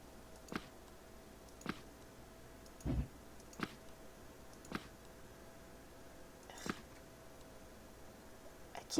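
Soft computer mouse clicks sound one at a time at irregular intervals, a second or so apart, while items are placed during decorating in the game EverQuest 2; the clicks are quiet and close, over faint background hiss.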